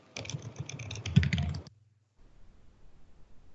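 Someone types on a computer keyboard in a quick burst of close, clicky keystrokes that stops abruptly, followed by a few faint quiet taps.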